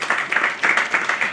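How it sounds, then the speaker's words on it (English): Audience applause in a lecture hall for a publisher, rising in several broad bursts of clapping that swell and fade across the short stretch, fairly loud and close with a faint voice mixed in. "Round of applause for you, sir."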